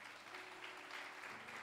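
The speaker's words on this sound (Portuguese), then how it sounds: "Dê uma salva de palmas a Ele bem forte" A church congregation clapping strongly in praise to God, a faint, distant, steady patter of many hands with a low hum underneath.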